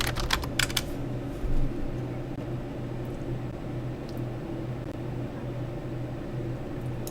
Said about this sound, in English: I'm going to go into Google and type in plate armor